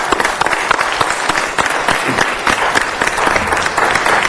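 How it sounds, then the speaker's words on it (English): Audience applause fills a city council meeting chamber, steady dense clapping from a crowd throughout with a few brief dips in intensity. "give them a round of applause"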